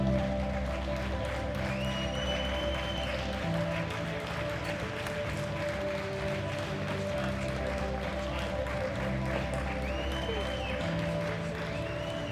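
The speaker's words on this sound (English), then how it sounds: "Once the music starts, the audience will give you a continuous round of applause." A steady round of applause fills a powerlifting championship hall, a continuous dense patter of clapping from the audience under background music and occasional voices.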